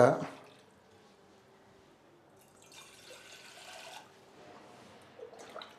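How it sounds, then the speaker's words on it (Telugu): Two glasses of drinking water are poured into a thick pot set on the stove, giving a brief splashing pour of about a second midway through an otherwise quiet moment, with a knock at the start and faint clatter at the end. "దీంట్లో నేను 2 గ్లాసులు నీళ్లు పోస్తాను"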